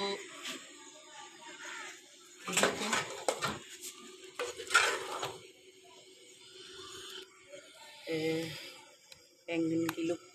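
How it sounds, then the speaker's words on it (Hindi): Eggplant frying and being stirred in a pan in a home kitchen: several bursts of metal utensil clatter and scraping against the pan, with quieter gaps between, while someone talks briefly. "अभी मैं थोड़ा सा बैंगन को भून के फिर डालूँगी"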